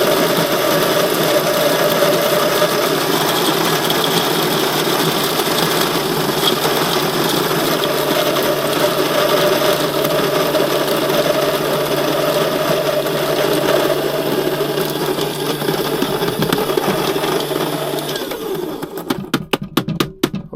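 An electric coffee grinder, run from a van battery pack through AC power, whirs steadily and loudly while grinding coffee beans for about eighteen seconds. It then cuts out into a few sharp knocks and taps.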